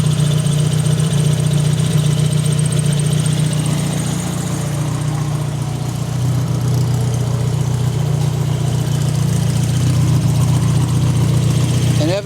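A Formula Ford Royale RP 30 race car engine idles close and loud with a steady low drone and a slight wavering pitch throughout, with a voice talking over it.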